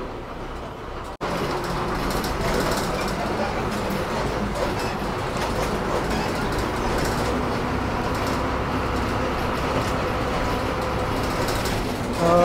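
An ST bus pulls into the Borivali Nancy Colony depot, producing a continuous loud mechanical rumble and rattling drone with broad hiss; the sound starts abruptly and stays steady and close until the end.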